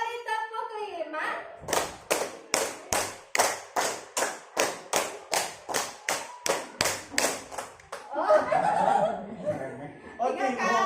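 A group claps a rhythm pattern, three rounds of five claps, as a fast series of sharp, evenly spaced hand claps. Laughter and chatter follow, and a voice is briefly heard at the start.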